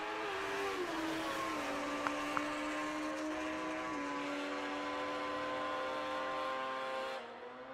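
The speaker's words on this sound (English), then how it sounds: "Rick Steinhardt on an experimental Kawasaki. Watch that thing move" An experimental Kawasaki drag racing motorcycle screams away at a drag strip, its high engine note stepping up through gears in a loud, continuous whine before cutting off abruptly.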